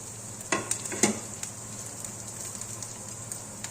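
Tempering sizzles in a pan for Telugu buttermilk rasam, a continuous fry with a few sharp spatula taps and stirring scrapes near the start.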